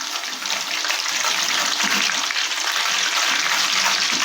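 Steady, loud hissing and sizzling of green chilies deep frying in hot oil, continuous throughout with no voices.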